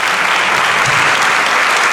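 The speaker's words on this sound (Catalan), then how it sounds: "I després ja li pegarem un aplaudiment molt fort a la solista" An audience at a charity orchestra concert applauds the soloist, a dense, steady burst of clapping from a full hall.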